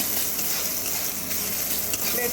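Gobindobhog rice stir-fried in a kadai sizzles loudly and steadily up close, with continuous scraping from the stirring and no talk.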